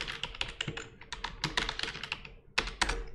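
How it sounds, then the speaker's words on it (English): Rapid, light clicking of a computer keyboard as a password is typed quickly into a Django web app login, a close, dense burst of keystrokes with a brief pause before a final flurry. "If I type my password quickly,"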